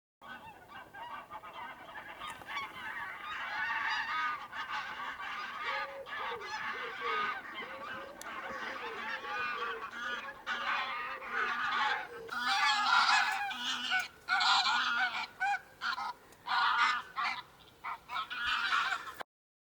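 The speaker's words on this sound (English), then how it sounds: "here's another example of some geese flying off over a pond at a water park" A flock of geese honks loudly and continuously over a pond at a water park, the calls growing into louder, choppier bursts toward the end as the birds take off.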